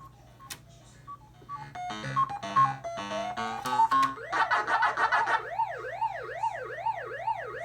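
A 1980 Midway Pac-Man arcade board plays its bright chiptune start jingle, a quick run of beeping notes, followed by a rising and falling warbling siren tone that repeats steadily, clear and close with no talking.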